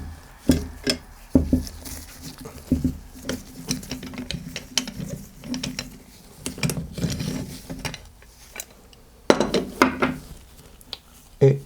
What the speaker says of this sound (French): Maintenant, je desserre le lève-soupape.